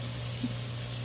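Hot tap water runs steadily into a sink while ground pork is drained through a strainer, a constant even wash of water noise with a faint low hum beneath and no talking.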